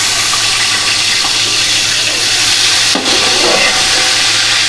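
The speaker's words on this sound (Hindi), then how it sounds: "अब अदरक लहसुन का पेस्ट डालेंगे" Ginger garlic paste sizzles in a pan with browned onions, giving a loud, constant hiss close by. A brief stir or clink comes near the middle.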